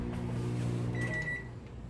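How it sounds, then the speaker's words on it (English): Microwave oven running in a home kitchen, a steady low electrical hum with a faint higher whine joining partway, alone and fairly close. "What's less electricity than microwave?"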